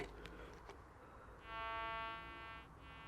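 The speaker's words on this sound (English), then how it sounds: "Now I've set the threshold. You can hear it buzzing away there." Nautilus metal detector holding a steady threshold buzz, a thin harmonic-rich tone that swells in after a few soft knocks and settles into a continuous close drone with no talking.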